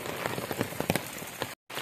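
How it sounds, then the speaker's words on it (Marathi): Steady rain in the Konkan patters on a hard surface nearby, dense and even, with scattered louder drops and a brief cut-out near the end. "पावसाची परत सुरुवात"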